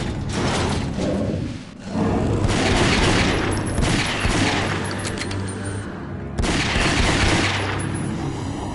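Rapid gunfire in the Ghosthunter video game, a loud sustained barrage of shots with a brief lull early on and another short break near the end, no voices.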